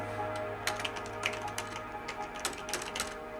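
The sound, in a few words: typing on a computer keyboard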